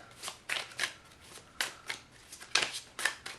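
Minchiate tarot cards are shuffled close by in short riffling bursts, several quick flutters separated by brief pauses.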